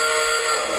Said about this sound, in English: hear engine sounds